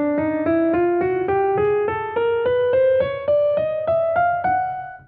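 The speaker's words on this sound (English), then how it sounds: "What you just heard there was the chromatic scale," A piano plays a chromatic scale, rising one note at a time in steady, evenly spaced steps. Each key is struck clearly and stands alone without any voice.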